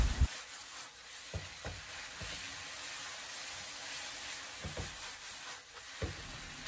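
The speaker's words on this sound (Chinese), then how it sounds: "再把切好的葱段放进锅中，然后继续的给它翻炒几下" King oyster mushrooms, green pepper and cut green onion are stir-fried in a wok, giving a moderate, steady sizzle with intermittent spatula scrapes and taps spread across the stretch.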